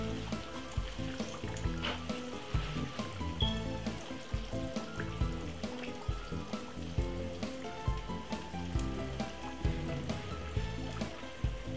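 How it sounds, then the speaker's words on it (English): Chicken pieces fry in hot oil in a pot, a steady, dense crackle and sizzle that runs throughout with a busy, bubbling texture and no talk. "Let's sink down those few pieces. Get them down inside of the oil."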